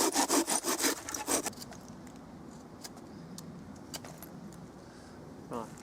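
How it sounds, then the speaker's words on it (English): A knife carves dead standing wood into a spindle, starting with a quick series of rapid rasping scrapes, then a few fainter scrapes and taps over quiet background. "I've broken off this piece, which I'm going to try and carve into the spindle"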